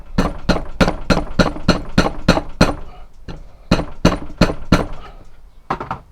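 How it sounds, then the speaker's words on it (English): Repeated sharp knocks of a piece of pipe striking a seax knife handle, a steady run of about nine close, loud blows, a short pause, then four more and a final hit. "And then I just hit it with a bit of pipe"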